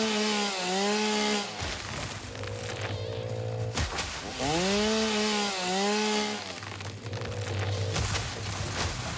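A chainsaw cuts down trees in the video game Satisfactory, its engine revving up and down in loud, repeated whining bursts separated by lower idling stretches.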